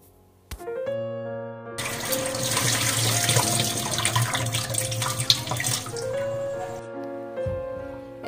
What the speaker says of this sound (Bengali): আমি কলটার নিচে রেখে দিয়েছি, তাই উপরে যে আঠাটা ছিল একদমই কিন্তু ধুয়ে পরিষ্কার হয়ে গেছে